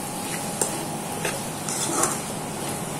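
A prawn and drumstick curry is stirred in a pot, with soft scraping strokes and light spoon knocks over a faint, constant background hiss and no voices.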